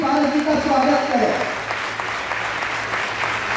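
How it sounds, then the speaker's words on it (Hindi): An audience claps to welcome a deputy mayor at a Rajput community oath-taking ceremony, loud steady applause filling the room while voices carry faintly beneath it at the start. "आपकी तालियां भी पारस जी का स्वागत करें"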